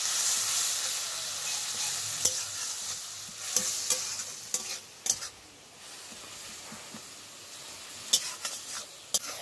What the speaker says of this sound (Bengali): এবার সমস্ত মশলাকে খুব ভালো করে কষাবো যতক্ষণ না পর্যন্ত তেল ছাড়ছে।